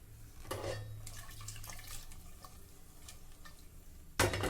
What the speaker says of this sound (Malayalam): ഒരല്പം വെള്ളം കൂടി ചേർത്തിട്ടുണ്ട്.